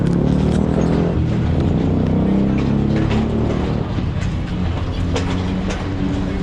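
Unique tall train on the Nangal to Bhakra line running steadily, a loud continuous low rumble with rattling wheel and carriage clatter throughout, no voices.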